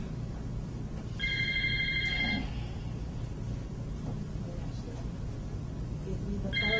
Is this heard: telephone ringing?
yes